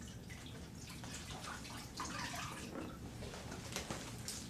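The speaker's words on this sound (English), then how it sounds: "then the sock is dipped into water" An STS casting sock dipped into room-temperature water for molding to an ankle, giving a soft, close splashing and trickling wash with faint drips, heard alone without talk.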